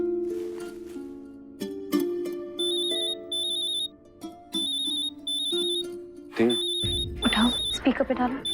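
A phone rings in a Hindi TV drama scene with a repeating electronic ringtone of bright beeping bursts over a musical tone, loud and close. Voices and a sharper sound come in near the end.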